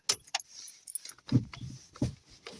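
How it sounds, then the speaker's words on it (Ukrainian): Car keys jangle in a quick burst of close, bright metallic clinks and rattles, with a few softer knocks in between. "Забираємо ключі наші."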